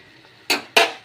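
A metal lid set down on a cooking pot at home while egg curry and spinach are cooked, giving two quick, close clanks about a quarter second apart against a quiet kitchen.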